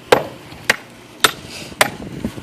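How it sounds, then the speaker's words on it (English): The spine of a TOPS SXB knife, 1/4-inch-thick 1095 steel, is whacked on its left side, giving four sharp, evenly spaced cracking strikes, close and crisp, each with a brief ring. "We'll whack the spine on this. See if the knife's just gonna snap on you. Side whacking the left side."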